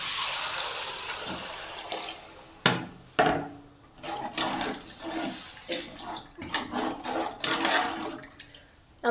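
Tomato and tamarind water is poured into a pot of fish curry in a Tamil home kitchen, giving an uneven splashing gurgle that comes and goes in short bursts.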